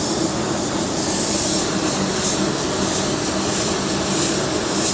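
A spray gun lays a single wet coat of silver paint, giving a loud, continuous broadband hiss that holds steady throughout with no talk.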